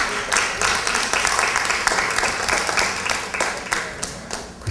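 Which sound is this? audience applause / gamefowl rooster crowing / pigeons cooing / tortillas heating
audience applause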